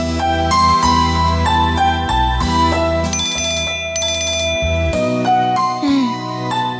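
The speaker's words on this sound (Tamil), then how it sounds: "என்னாச்சு ஏதாச்சுன்னு நான் பூமிகா கிட்ட ஃபோன் பண்ணி கேட்குறேன்." A telephone plays a repeating electronic melody while a call is placed in a Tamil television serial. The loud, clear tone runs steadily for several seconds and is heard alone.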